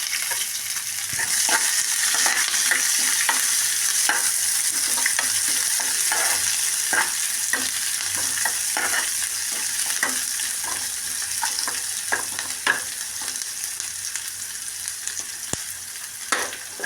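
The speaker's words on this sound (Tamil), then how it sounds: "நம்ம வெங்காயம் வதங்கும் போது" Steady sizzling of onions frying in a hot pan, with intermittent scraping stirs against the metal, close and continuous.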